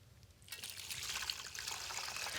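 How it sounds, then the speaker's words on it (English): Brine made with whole cloves is poured over a 12-pound turkey, building from a thin trickle into a steady splashing pour. The sound is soft and close, with no voices. "Pour the brine over the turkey."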